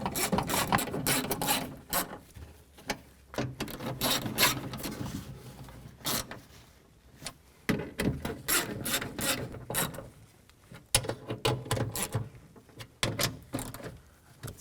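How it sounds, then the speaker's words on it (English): A hand ratchet snugs up the bolts on a 2004–2008 Nissan Maxima rear power window regulator, giving bursts of quick metallic clicking with short pauses between strokes, close and moderately loud. "you take your ratchet and snug them all up."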